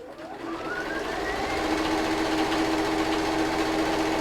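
A sewing machine runs steadily, stitching quilt block pieces together, its motor rising briefly at the start and then holding a continuous even whir close by, with no talk.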